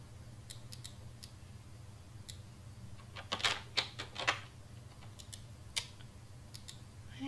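Sparse, uneven key clicks from a computer keyboard, some single and some in quick clusters of two or three, moderately close over a steady low room hum.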